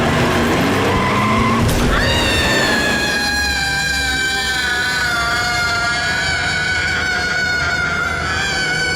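A car skids to a sudden stop on an empty road, tires letting out a loud, sustained high squeal that holds for several seconds after a rough scraping start.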